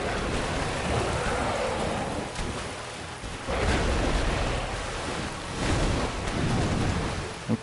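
Deep water in Dark Souls Remastered gives a continuous rushing, sloshing wash with surges and dips, like surf or heavy rain, steady and fairly loud throughout with no voices.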